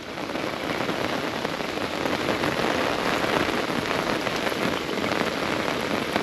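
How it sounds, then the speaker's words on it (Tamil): Heavy rain pours down steadily at Malampuzha Dam near Palakkad, Kerala, a dense, continuous hiss of drops drumming on surfaces nearby, with no voices. "மழை ஜோன்னு பெய்யுதுங்க"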